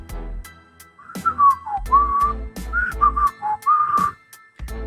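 Someone whistles a wavering, meandering tune in short phrases, over a rhythmic low thumping beat.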